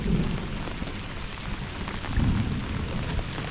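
Heavy rain pours steadily onto a small fishing boat out on the water, a dense, loud hiss with low rumbling drumming throughout, no voices.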